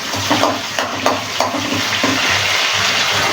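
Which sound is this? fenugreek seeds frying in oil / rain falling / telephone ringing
fenugreek seeds frying in oil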